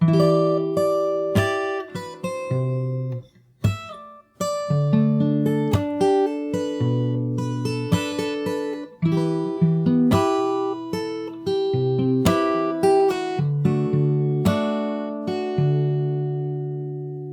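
Fingerstyle acoustic guitar plays the second verse part of a song, plucked chord tones and melody notes ringing clearly and close, steady and continuous with brief gaps, no voices.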